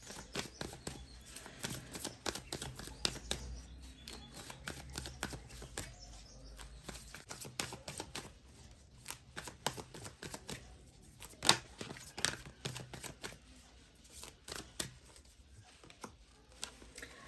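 Tarot cards are shuffled and drawn from a second deck, giving soft scattered riffles, slaps and flicks in irregular bursts, close and fairly quiet with no speech.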